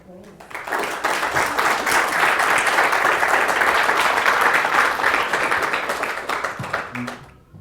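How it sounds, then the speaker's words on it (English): An audience gives a warm round of applause to welcome a cinematographer at a film talk, dense crowd clapping that swells quickly, holds steady and loud for several seconds, then thins out and fades. "ask you to just give him a warm round of applause"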